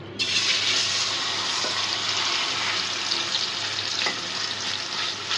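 Pieces of large chicken meat hit a hot kadai with a little oil and sizzle loudly from the start, a dense, steady frying hiss close up with a few faint clinks and no talk.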